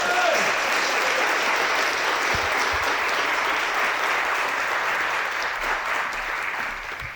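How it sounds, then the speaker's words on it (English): An audience at the 41st Annual Police-Community Relations Awards applauds, with dense, steady clapping filling the room close and loud, then slowly easing toward the end. "Give them one more round of applause"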